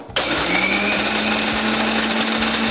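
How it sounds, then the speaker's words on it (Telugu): Electric mixer grinder powdering roasted spices, whirring on abruptly with a loud, steady high-pitched motor whine and rattling grind that runs nearly three seconds before cutting off. "దీన్ని మనం మిక్సీలో పౌడర్ చేసేసుకుందాం"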